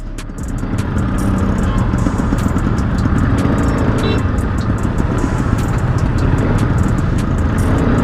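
Busy road traffic with cars and motorcycles rumbles continuously and loudly, passing engines blending into a constant roar with no talk.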